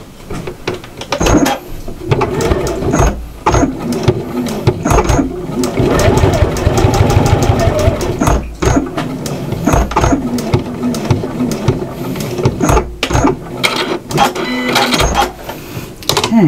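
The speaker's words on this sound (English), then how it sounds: "We're going to top stitch close to the fold of the hem, so it makes sure that our strap lies flat" A sewing machine top-stitches close to the fold of an apron strap hem, running in steady rapid bursts with brief pauses between runs, under a voice talking.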